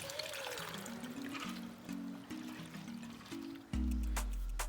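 Half a cup each of mung, masoor and chana dal are poured with water into a cooking pot for Pakistani daal gosht, a steady close trickle and splash that ends in a fuller gush.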